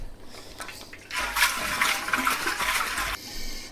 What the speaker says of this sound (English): When it's about half full, I like to give it a shake.